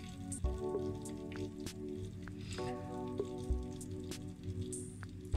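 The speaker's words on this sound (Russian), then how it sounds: "Если вы слышите, сейчас я вот выключаю плиту, что галушки, они снизу жарятся." Steamed dumplings fry on the bottom of a pan under a heavy lid, giving a quiet, steady crackle with scattered sharp pops and drips and no talk.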